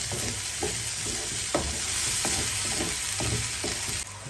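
Tomato, salt and onion-like ingredients stirred in a hot pan for fish moolie, a steady loud sizzle under repeated scraping strokes of a spoon, close and continuous with no talking.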